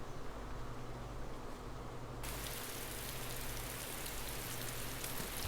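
Steady rain in the video game DayZ, a soft, even hiss that thickens partway through and then continues unbroken as a close, constant wash.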